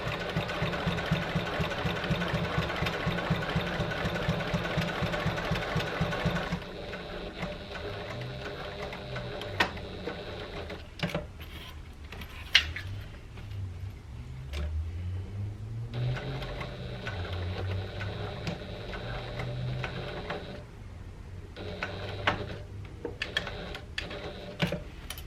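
A sewing machine stitches all the way around a tote bag, running loud and steady at first, then continuing in quieter bursts with short pauses and small clicks, close and without speech.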